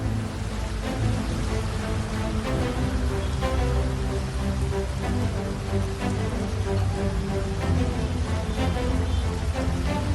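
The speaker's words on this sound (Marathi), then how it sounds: "पुणे जिल्ह्यामधील 105 गावांमध्ये गारपीट आणि पाऊस बरसलाय" Heavy unseasonal downpour in Pune, dense rain hammering surfaces as a steady, loud, continuous roar with no pauses and no voices.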